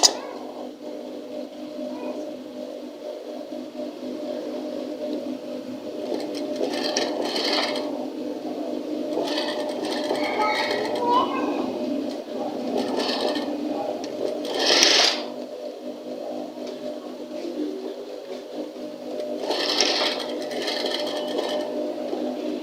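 Sewing machine stitching fabric for a gents kameez cuff, a steady close mechanical whir running throughout with several brief louder bursts as the stitching speeds up, no talking.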